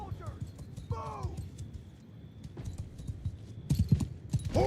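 Hooves of mounted horse archers in a medieval battle video game, a quick clip-clop rhythm under shouted commands and other voices, with the hoofbeats growing louder toward the end.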